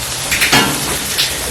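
Southern fried potatoes sizzle on a Blackstone griddle, a loud close hiss of frying broken by a few scraping metallic clinks of a spatula on the steel; no talking.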